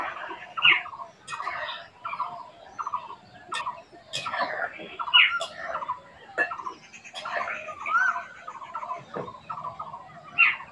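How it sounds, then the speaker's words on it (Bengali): Birds calling nearby in a series of loud, rough gobbling and clucking bursts, repeating irregularly throughout with short gaps between calls. "পাখিগুলো এসে ডাকছে"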